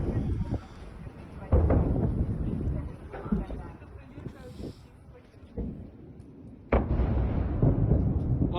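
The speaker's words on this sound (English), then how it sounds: "We hear explosions in the distance" Several muffled booms of missile explosions in the distance during a Storm Shadow strike on Russia, low and rumbling, arriving at irregular intervals amid a noisy outdoor background.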